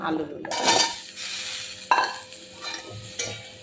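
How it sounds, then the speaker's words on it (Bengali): Potatoes drop into a metal wok still oily from frying prawns, followed by a sharp clang and repeated scraping and stirring with a metal utensil, with a light sizzle underneath. "আলুগুলো দিয়ে নাড়াচাড়া দেবো একটু।"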